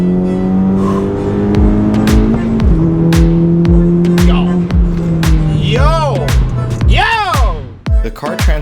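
A car engine revs hard and accelerates through second gear, the steady climbing drone loud and close, with a few sharp transient bangs, and people shouting and chattering over it toward the end.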